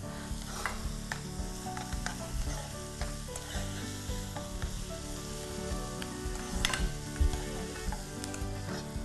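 Finely chopped onion sizzles steadily in a pan for paneer bhurji, a continuous close frying crackle with occasional stirring scrapes and clinks, no voices.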